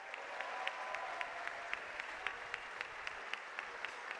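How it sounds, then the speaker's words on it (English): Steady audience applause for a graduating high school class of 2021 at a school prize day ceremony, a dense wash of clapping with a few sharper claps standing out, moderately distant and continuous throughout. "please give a hearty round of applause to the class of"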